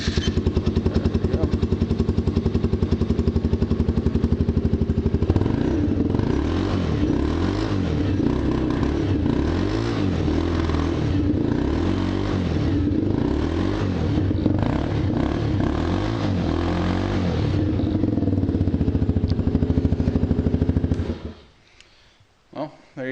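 A small engine, just fitted with a freshly cleaned carburetor and started on choke, runs loud and steady for about twenty seconds with a rough, pulsing idle and clattering rhythm, then cuts off abruptly.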